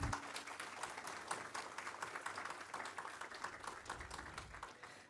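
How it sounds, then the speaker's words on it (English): A crowd applauds at a school convocation ceremony, a dense steady wash of clapping at moderate distance that carries on without a break. "can we have a huge round of applause for them"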